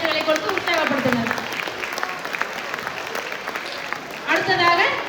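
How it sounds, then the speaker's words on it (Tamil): A school audience at an annual day event claps for young students, a sustained burst of applause with voices mixed in, swelling again loudly near the end. "அவர்களுக்கு மீண்டும் ஒரு முறை பலத்த கைத்தட்டுகளை கொடுத்து உற்சாகப்படுத்தினர்"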